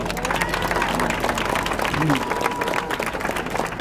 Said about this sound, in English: Y'all give this family a round of applause